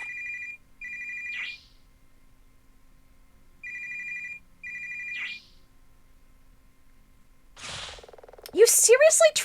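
Phone ringing during a magical girl transformation, two clear electronic ringtone bursts with a gap between, followed by a sweeping magical chime flourish, near and moderately loud.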